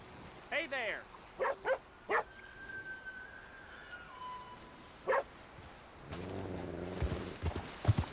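A dog in Red Dead Redemption II gives several short, sharp barks and whimpers in quick bursts, followed by someone speaking briefly over a horse's hoof clops.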